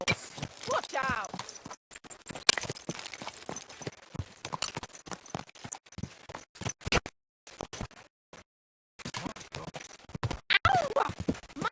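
Horse hooves clip-clop in irregular bursts on a road in the medieval game Kingdom Come: Deliverance II, interrupted by short silences, with people talking and shouting over the hoofbeats.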